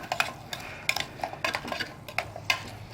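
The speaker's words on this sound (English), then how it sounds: "I'm gonna start cooking in my flour, so it's not raw, and kind of make a roux" Flour is stirred into a roux in a camp cooking pot for chicken and vegetable soup or stew: a close, steady series of scraping, clinking spoon-against-metal strokes in an irregular rhythm, with no voices.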